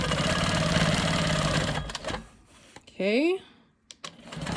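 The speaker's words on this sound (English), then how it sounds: "I'm gonna go ahead and stitch in the ditch between these two fabrics" A sewing machine stitches in the ditch between two quilt fabrics, a dense close mechanical whir for about two seconds, then a person speaks briefly.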